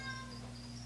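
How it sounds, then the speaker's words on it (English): Faint, distant meowing from a pet cat somewhere in the background, a thin wavering cry over a noisy low hum with possible murmur, quiet and indistinct. "sorry my cat's screaming in the background"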